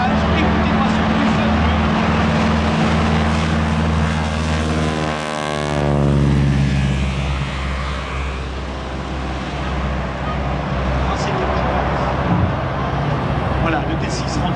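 A North American T-6 propeller plane takes off at an air show, its loud engine drone rising with a sweeping Doppler shift as it passes close by, under a steady crowd and announcer backdrop with talk.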